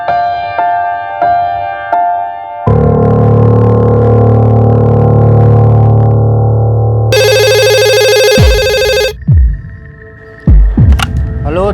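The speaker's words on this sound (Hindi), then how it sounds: "मैं वर्कशॉप में फोन करके देखता हूँ।" A telephone rings out while a call is placed to a workshop in a crime TV drama, with loud, repeated electronic ringing tones and sustained dramatic tones around them.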